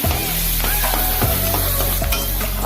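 Vegetables for Hakka-style chowmein fry hard in a hot pan, a loud, steady close-up sizzle broken by repeated stirring clatter.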